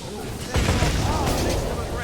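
Explosive bolts from a bow in Dragon's Dogma: Dark Arisen burst against an enemy, a sudden loud blast followed by a crackling chain of rumbling detonations that lasts to the end.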